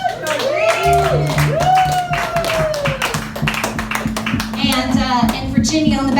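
An audience clapping for stage dancers at a live variety show, scattered loose clapping and taps under a loud announcer's voice and background music.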